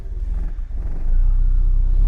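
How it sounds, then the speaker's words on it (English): Classic Mini Cooper engine started from a floor push button, catching and settling into a close, rough low rumble that grows louder and steadier partway through. "But that one also has a floor push button start."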